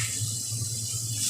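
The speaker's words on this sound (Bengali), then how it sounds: "সামান্য একটুখানি জল দিয়ে দেবো।" Water pours into spice paste in a cooking pan for rohu fish, a steady close hiss and splash lasting just over a second.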